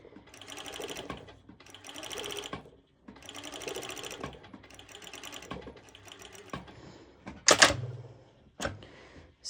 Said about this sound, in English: I'm top stitching over the seam of the serger